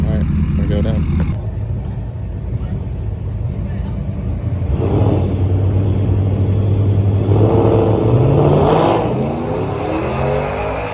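A Ram 1500 pickup with its interior removed, on street R drag tires, launches down a drag strip; its engine roars loud and close, climbing steadily in pitch as it accelerates hard.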